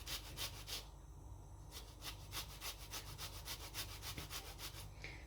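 Frozen lemon zest rasped on a grater in steady back-and-forth strokes, a soft, close scratching rhythm with a brief pause in the strokes, no voices.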